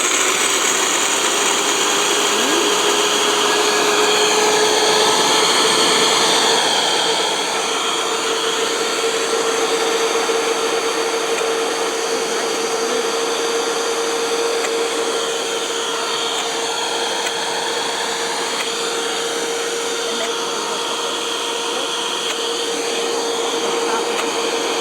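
Kitchen blender motor running at speed while blending kale and lemon ingredients, a loud steady whirring hum close by that continues without a break throughout.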